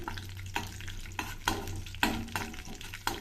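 Ingredients for boondi kheer frying in a pan, a soft steady sizzle broken by regular scraping stir strokes roughly every half second, close and clear with no talking.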